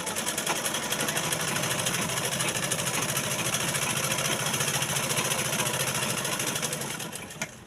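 A sewing machine stitching a salwar runs in a steady, continuous mechanical whir at close range with a fast regular rattle, holding constant before easing off at the very end, with no talking.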